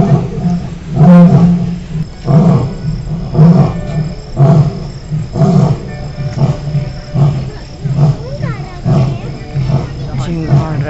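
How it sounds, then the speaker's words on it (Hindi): A lion roars in a series of deep, rumbling bursts, heard from a distance beneath the chatter of a nearby crowd at Indore Zoo. "बाप रे शेर की दहाड़ सुनिए आप लोग भी"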